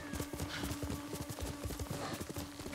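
Horse hooves clip-clop at a steady, quick gallop in Ghost of Tsushima, loud and close, with a faint low game hum underneath and no talk over it.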